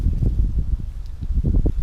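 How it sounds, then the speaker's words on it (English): Wind blowing through rose and bramble foliage outdoors, a low steady rumbling gust with soft rustling of leaves, loud and close as if buffeting nearby. "Wind started blowing."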